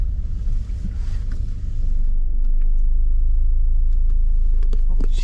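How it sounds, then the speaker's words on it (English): A van passing on a narrow country lane on the Lissan House estate in County Tyrone, a steady loud low rumble with wind buffeting the microphone, the engine noise swelling as it goes by. "And a van there now, you see."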